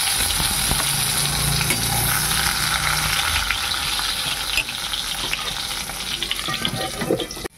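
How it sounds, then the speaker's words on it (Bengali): Eggplant pieces fry in hot oil in a wok with a loud, close, continuous sizzle and crackle. The sizzle eases slightly toward the end, with scattered pops and no speech. "বেগুনগুলো আগে ভেজে নেব।"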